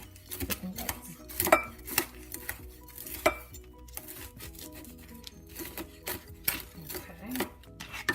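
Cooked bacon gets chopped into small bits for keto chicken salad, a quick series of close, irregular knife taps on a board with a few clinks of utensils in between, fairly quiet overall.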